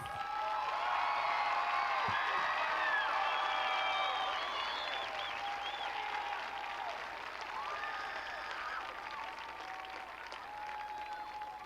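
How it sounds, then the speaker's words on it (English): At a North Salem High School graduation, a large crowd applauds the graduating seniors in a sustained, roomy roar of clapping mixed with whoops and cheers, strongest early and easing slightly while staying continuous. "Let's give these seniors a round of applause."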